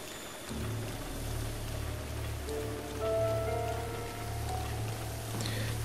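Rain falls in the video game Zelda: Breath of the Wild, a steady hiss of drops under low game music, with no voices.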